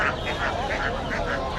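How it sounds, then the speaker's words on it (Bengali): Two Chinese ducks at a rural village market, giving a steady run of repeated nasal quacks close by against a busy, noisy market background. "এই যে এখানে দুইটা চীনা হাঁস দেখতে পাচ্ছি ভাইয়ের কাছে।"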